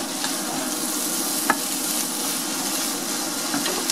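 Pieces of red kuri squash stirred in a cooking pot, giving a steady close scraping and sizzling hiss with a few sharp clicks of the utensil against the pot, and no voices.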